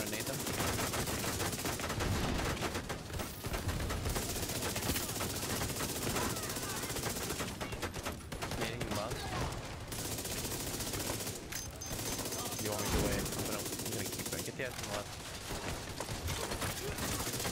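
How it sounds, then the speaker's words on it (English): Minigun fire in The Division 2, a dense, continuous roar of rapid automatic shots that fills the whole stretch, loud and close, with only brief dips, while players talk underneath. "Minigun."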